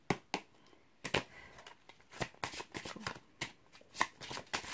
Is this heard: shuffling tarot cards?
yes